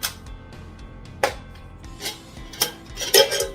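Nesting camping cookware from a 37-piece non-stick kit being packed back into its bag: pots and pans clank and clatter together in a few close, sharp metallic knocks with light scraping between them.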